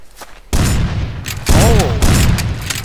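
Gunfire in the survival game Rust: loud broadband volleys cracking in from a short silence, with a second heavy burst midway and another near the end, a voice briefly calling out between the shots.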